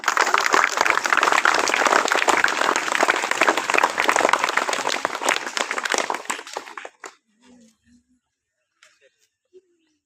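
Students at a government higher secondary school in Tamil Nadu clap together to welcome incoming eleventh-grade pupils. The applause is loud and sustained for about seven seconds, then breaks off abruptly, leaving a few stray claps in quiet.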